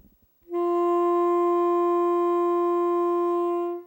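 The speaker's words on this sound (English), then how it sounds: "The D sounds like this." After a brief faint noise, a saxophone sounds a single long D, steady and even for about three seconds before releasing, played alone in a beginner lesson.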